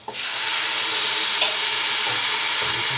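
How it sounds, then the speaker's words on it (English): Wine hits a hot pan of chorizo risotto and erupts into a loud, steady sizzle that keeps bubbling throughout, close and continuous. "I'm going to pour it in, and it's going to sizzle and bubble, and I'm going to stir like crazy."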